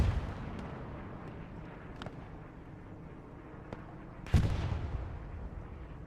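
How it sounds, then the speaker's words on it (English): Artillery barrage in the Hell Let Loose video game during a competitive match, a few distant shell impacts, with one heavier close blast near the end over a low rumbling battlefield. "Artillery does come down."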